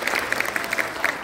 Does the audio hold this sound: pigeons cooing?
no